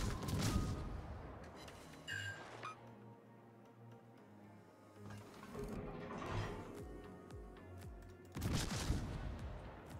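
Naval gunfire in the warship battle game World of Warships, aboard the French premium cruiser Bayard, with salvos of booming shots and clattering reload noise recurring at intervals under a steady low engine rumble.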